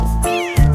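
A cat meows loudly and close in a French children's nursery song, one drawn-out, wavering cry followed by the start of another.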